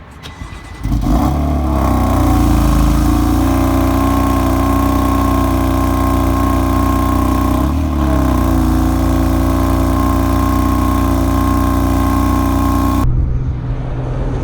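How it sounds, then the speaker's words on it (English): A car engine cold start: the starter catches and the engine fires into a loud, steady, high idle that holds for over ten seconds before cutting off abruptly, recorded up close with no voices. "Here's a quick cold start."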